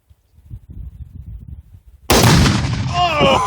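A gunshot sets off two pounds of tannerite packed in a fridge, causing one sudden, very loud blast outdoors. It follows a stretch of low rumbling handling noise, and voices rise as the blast rings out.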